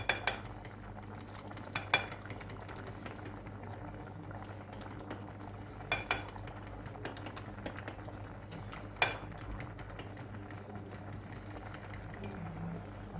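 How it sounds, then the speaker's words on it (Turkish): Egg white and water stirred together for soup, with a utensil scraping softly and clinking against the bowl a few times over a quiet background hum; no one speaks. "Biraz da su ilave ettik. Şimdi bunu karıştıralım."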